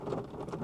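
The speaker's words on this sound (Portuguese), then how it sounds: "esse barulhinho de chuva também é muito gostoso" Rain pattering steadily on a car, heard from inside during a downpour, with a continuous soft drumming that stays fairly quiet and has no voices.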